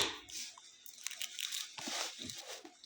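Someone chews egg up close, with soft crunching and moist mouth sounds coming in several quick bites across the short stretch, no talk over it.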